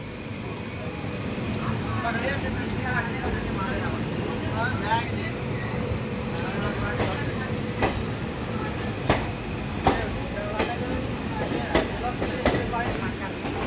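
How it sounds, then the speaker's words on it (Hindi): The Ambala Cantt–Bathinda Express pulls out of Ambala Cantt railway station, a steady rumble of wheels on track with periodic rhythmic clacks, close and continuous, while a voice talks over it. "दोस्तों चल चुकी है हमारी train Ambala cantt railway station से ऑन टाइम 1:10 पर।"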